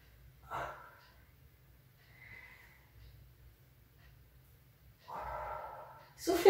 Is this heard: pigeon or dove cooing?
no